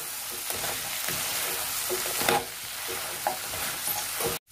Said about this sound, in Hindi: इसी के साथ डालेंगे यहाँ पे टमाटर केचप, अच्छे से मिक्स करेंगे